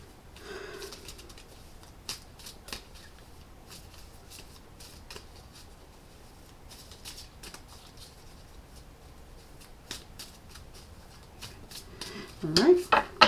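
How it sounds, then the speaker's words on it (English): Tarot cards are shuffled in a series of soft riffles and flicks, close and quiet, with a few sharper card snaps and a louder burst of handling at the end. "I'm going to start out shuffling."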